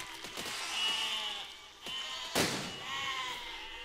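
Sheep bleat in the physics building game Besiege, several wavering calls overlapping at moderate distance, with a sharp thud of cannon-fired destruction midway through.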